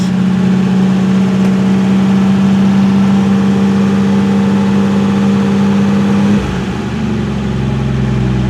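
A 1978 Dodge Aspen survivor car, nearly junked and very low on gas, runs loudly with a steady, droning engine note that shifts and settles lower about two-thirds of the way through, with no talking.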